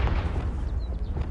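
A Confringo spell explodes in the Hogwarts Legacy video game, a loud, close, continuous fiery roar that fills the whole brief moment.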